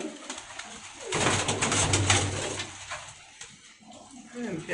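Pakistani pigeons coo softly nearby while wings flutter in a burst, with someone talking quietly in the background.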